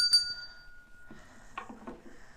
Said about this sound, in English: Or you could get a bell.